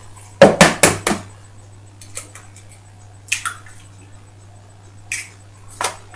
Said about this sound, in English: then I break an egg